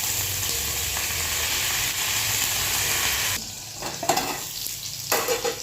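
Bitter gourd pieces and curry leaves fry in hot oil with a steady, bright sizzle, then a few stirring scrapes and clatters break in as the sizzle dips and returns.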